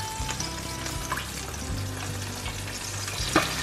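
Steady oil sizzle and crackle from chicken legs frying in a pan, with occasional louder pops and faint clinks, close by and continuous.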